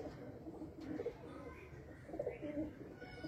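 A pigeon coos in quiet, repeated low rolling phrases, fairly faint and close, with a few soft chirps and little else around it.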